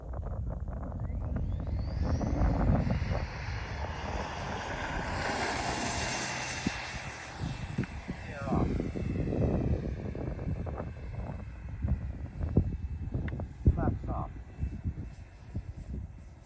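RC A-7 Corsair II jet model on its first flight with a new electric ducted fan, a steady whooshing whine rising and passing overhead amid wind buffeting, with people talking nearby.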